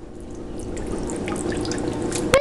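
Steady running and splashing water as a young child is washed, with small drips and sloshes throughout and a brief sharper splash near the end.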